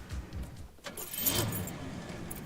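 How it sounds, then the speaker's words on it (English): A ring of keys jangles briefly and metallically close up, a short rattling burst, with faint vehicle noise underneath and no speech. "there's the keys"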